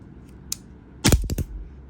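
Airsoft pistol with metal slide, metal lower frame and fixed barrel fired in a quick burst of sharp cracks with the slide snapping back, preceded by a faint click, loud and close.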